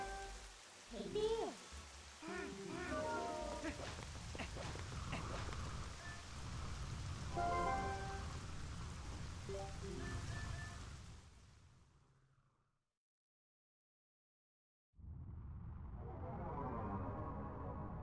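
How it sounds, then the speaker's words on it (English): Steady rain hisses across the scene in the Twilight Princess HD video game, a dense wash of falling drops mixed with game effects and a brief voice, cutting to silence before the downpour resumes just as loud. "Nice rain."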